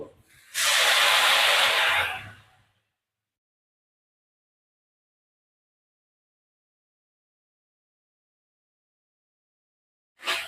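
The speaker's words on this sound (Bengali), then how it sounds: "এবার মশলাটা দিয়ে দেবো একটু জল দিয়ে মিশিয়ে দিয়ে দেবো" Spice masala mixed with water poured into hot oil, setting off a loud burst of hissing steam that lasts about two seconds and then stops, followed by long silence and a brief hiss at the very end.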